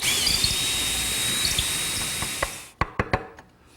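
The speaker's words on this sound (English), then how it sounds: "put it through the hole I drilled earlier, and drill" A drill with a 3/8-inch bit bores through wood for a dining table, a loud, steady whirring cut for over two seconds that stops, followed by several sharp knocks and clatters.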